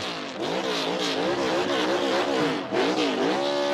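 A 2025 NASCAR Cup Series car doing a burnout, its engine screaming up against the rev limiter in a loud, close, wavering drone that bounces rhythmically up and down with a brief dip near the end.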